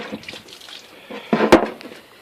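Water sloshes inside a small metal box in a few brief, uneven splashes that peak near the end, close and fairly loud against a quiet background.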